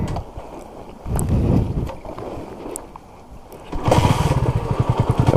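A Honda CB250RS motorcycle engine runs on a muddy green lane, idling at low revs and then revving louder toward the end, with wind buffeting the microphone.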